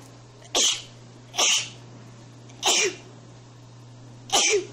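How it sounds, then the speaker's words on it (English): Four sharp sneezes, well spaced over a few seconds, each a sudden breathy burst over a low steady hum. "that's a lot of sneezes"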